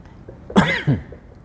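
Two quick, harsh coughs close by, one right after the other, with quiet background before and after.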